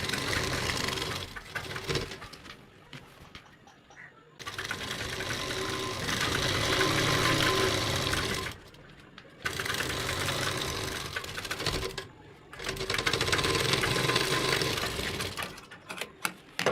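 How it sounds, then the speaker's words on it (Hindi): Overlock sewing machine stitching a salwar seam from one leg to the other, running in three long steady bursts with short pauses between, close and loud with no talk. "तो हमने एक लेग से दूसरी लेग तक ओवरलॉक कर लिया है कुछ इस तरह से"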